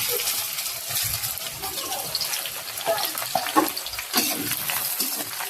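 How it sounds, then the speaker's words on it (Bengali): Onions and green chillies hit hot oil in a kadai, a loud, crackling sizzle with stirring and clattering, close up and continuous with brief kitchen noises. "এখন এই যে পেঁয়াজ মরিচ ঢেলে দেওয়া হবে"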